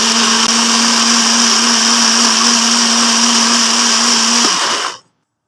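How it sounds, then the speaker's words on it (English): A loud blender chopping spices runs at a steady high whine for several seconds, its motor pitch shifting near the end before it switches off into silence. "Now we chop the spices."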